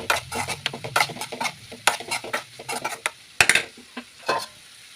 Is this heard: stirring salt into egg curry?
yes